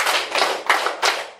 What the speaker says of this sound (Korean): 우와, 박수 엄청 잘 치네